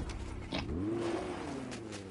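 A car engine in Fortnite revs briefly, its tone rising then easing off over about a second, faint and somewhat muffled amid game background noise.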